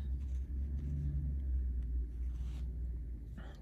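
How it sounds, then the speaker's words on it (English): Low engine rumble from a truck stopped behind the neighbouring house, heard steadily through the walls at moderate distance with a faint rise near the end, with no talking. "the truck is stopped right behind the house next door to us"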